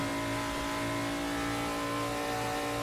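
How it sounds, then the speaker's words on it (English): A Ford Falcon race car engine screams at sustained high revs down a straight at around 250 km/h in Assetto Corsa, a loud steady harmonic drone with no talk. "Screaming the absolute nuts out of the big Falcon"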